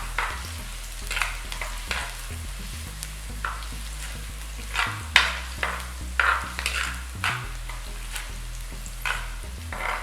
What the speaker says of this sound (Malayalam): ഇപ്പോൾ ഇഞ്ചിയും വെളുത്തുള്ളിയും നന്നായിട്ട് മൂത്ത് വന്നിട്ടുണ്ട്.